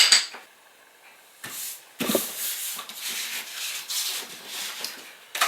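Repeated short scrubbing strokes of an ink pad rubbed along paper edges with Distress ink Black Soot for scrapbooking, irregular bursts of close dry friction separated by brief pauses, with no voices.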